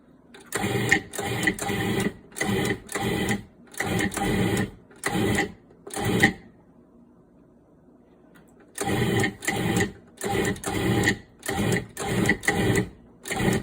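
A food processor pulsing pie crust dough in short motor bursts, a quick run of pulses, a pause of a couple of seconds, then another rapid series, all loud and close.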